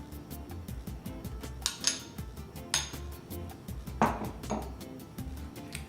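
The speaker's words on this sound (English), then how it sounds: "So I'm just gonna spoon some of this on here." Spoon scraping and clinking against a dish while pesto is spooned onto hot spaghetti squash, a series of close metallic taps and scrapes with a few louder knocks.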